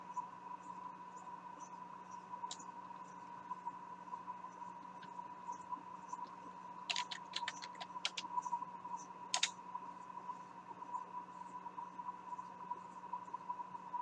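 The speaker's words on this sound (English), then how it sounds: "I have to type in this." Typing on a computer keyboard, faint and close, with a quick burst of key clicks in the middle and a second short cluster after it over a steady electrical hum.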